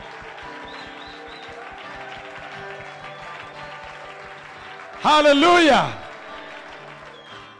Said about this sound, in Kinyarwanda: Applaudissons et poussons des cris de joie pour le Seigneur Jésus.